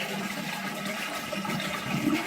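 A toilet cistern flushes after its button is pressed, a steady rush of water filling the whole moment, close and fairly loud, with no voices over it.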